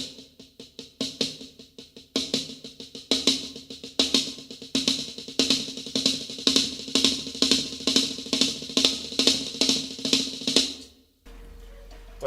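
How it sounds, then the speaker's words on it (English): A drum six-stroke roll played slowly, with distinct sticking strokes grouped in a steady repeating pattern that gradually settles into an even rhythm for about eleven seconds, close and clear, then stopping abruptly. "Okay, let me start slowly."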